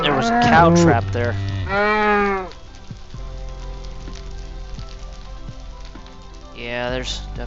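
Cows in a Minecraft-style video game let out loud, close moos in a burst at the start, then a soft hissing background, and one more moo near the end.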